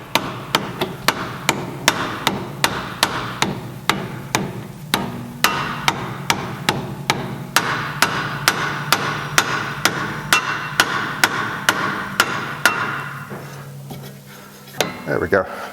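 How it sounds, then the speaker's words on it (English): A plastic mallet hammers a Porsche Boxster front strut down off its hub in a long, steady run of sharp knocks, roughly two per second, with a brief pause and a last few blows near the end. "So I'm just going to use my plastic mallet."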